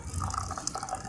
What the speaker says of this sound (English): Let me add some water to this so you guys can get a look